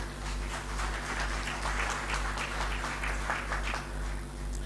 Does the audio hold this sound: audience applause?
yes